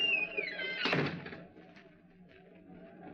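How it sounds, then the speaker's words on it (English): A door is shut in an old radio drama, giving one muffled thunk right after a fading high tone and then quiet room noise. "Shut the door behind you."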